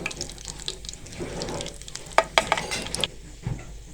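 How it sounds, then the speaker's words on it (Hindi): Ajwain, cumin seeds and whole dried chillies sizzling in hot oil for a dhaba-style dal chana masala, a steady close crackle with a few sharp spits and pops near the middle, with no talking. "ऑयल हमारा गर्म हो चुका है, इसमें अजवाइन, जीरा और साबुत मिर्च इसमें शामिल करेंगे"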